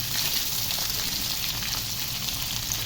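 Thin, long onion slices and curry leaves fry in hot oil with a loud, continuous sizzle and dense crackling that stays steady and close throughout, with no talk.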